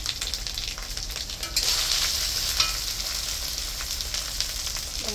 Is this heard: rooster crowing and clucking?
no